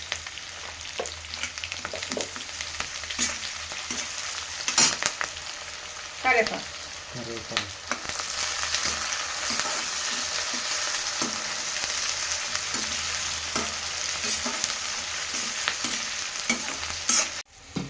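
Ginger and garlic frying in a pan for jowar upma, a steady loud sizzle with scattered stirring scrapes, a burst of louder frying partway through.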